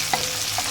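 Onions stirred in a frying pan with tempering seeds, a soft sizzle running throughout and two brief scraping stirs standing out over the short stretch.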